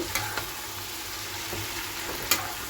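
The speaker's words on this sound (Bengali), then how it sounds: "মাশরুম ভাজা বসিয়ে দিয়েছি মাশরুম আলু ভাজা" Mushrooms and potatoes fry in a pan with a steady, close sizzle that runs throughout, marked by a few sharp clicks of stirring, and no one speaks.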